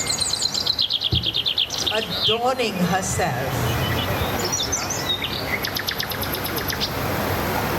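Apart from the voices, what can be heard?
birds chirping in a forest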